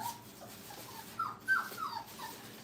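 A puppy whines in a kennel, giving a few short high whimpers and yips that rise toward the middle, close and fairly soft over a quiet room.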